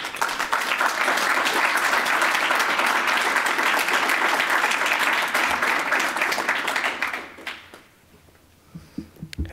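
An audience at a campus poetry reading applauds to welcome poet Javier Huerta, a dense, sustained clapping that holds for about seven seconds before tapering off to a few scattered claps and small room noises.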